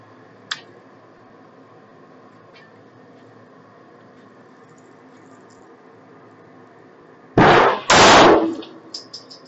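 Two loud 9mm pistol shots from a SIG P365 XL firing Federal Punch 124-grain ammunition ring out close together near the end, preceded by a faint click and quiet room tone, with a brief rattle after.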